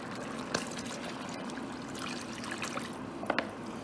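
Stock is poured into a pot of beer-braised beef stew, a soft continuous trickle and splash with a few small clunks, quiet and close.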